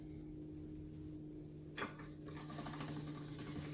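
A hand-cranked pasta machine rolls dough through its rollers with a faint, steady mechanical hum, joined partway by a sharp clack and a few light rattling knocks, quiet and close.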